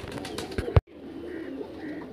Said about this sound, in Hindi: और कुछ कबूतर उड़ भी रहे हैं भाई